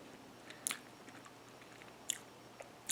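Close, soft chewing of a banana key lime waffle, with a few crisp bites and moist squishy mouth sounds spread over a few seconds, no talking.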